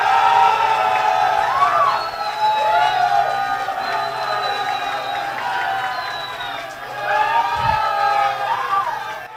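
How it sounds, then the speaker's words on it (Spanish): A television studio audience at a reality singing contest cheers, shouts and claps for a contestant, with excited voices rising and falling in waves throughout. "Ustedes, el público, va a tener la oportunidad de rescatar a uno de ellos o ella con sus aplausos."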